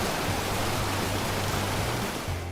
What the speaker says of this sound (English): In the 5th place is the Yumbila waterfall.